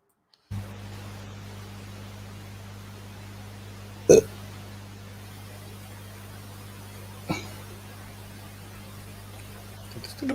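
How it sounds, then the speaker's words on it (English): Two short, abrupt burps break a quiet hiss of headset background noise, the first louder, the second fainter a few seconds later, with a small click at the end. "burp in my ear."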